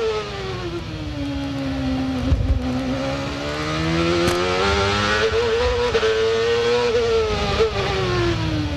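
A CART race car engine at the 2001 Long Beach street race, heard onboard, wails loudly and continuously, its pitch climbing and dropping through gear changes and throttle lifts.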